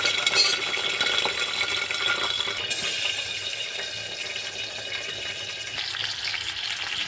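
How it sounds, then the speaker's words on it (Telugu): Green chillies fry in hot oil with a steady close sizzle, brief metallic clinks from stirring and no voices. "మిర్చి లైట్గా ఫ్రై అయిపోయింది"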